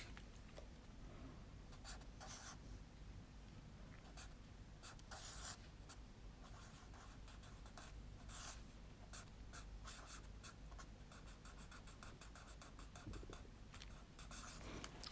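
A Sakura pen, the number 5, writes steadily across Rhodia pad paper with a continuous fine scratching and rubbing. Stroke bursts recur throughout, close and clear, with no talking.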